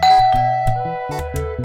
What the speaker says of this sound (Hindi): दरवाजे की घंटी बजी है